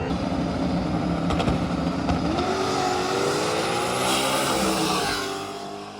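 Loud radial-tire drag racing cars launch, engines screaming and rising in pitch as they accelerate hard, the roar fading slightly at the very end.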